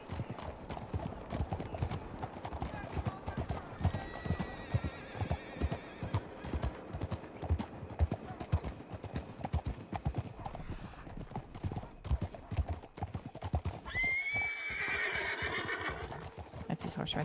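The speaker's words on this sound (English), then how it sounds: "That's his horse right there." A horse clip-clops through most of the stretch in a steady, close hoof rhythm, then lets out a loud whinny near the end, with people talking faintly underneath.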